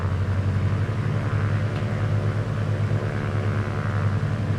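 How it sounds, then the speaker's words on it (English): Single-engine piston plane engine in Microsoft Flight Simulator 2024, throttled up for a pre-flight magneto check, giving a steady, loud, close droning rumble with a low propeller hum throughout. "Next we'll bring up the throttle and do our magneto check."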